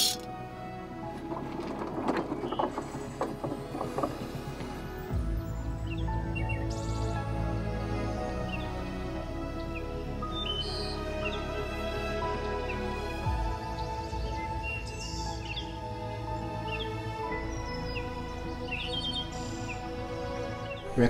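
Morning birdsong near rice fields in Bali: soft, scattered chirps and tweets over a steady low hum of the surroundings, faint and somewhat distant, continuing throughout.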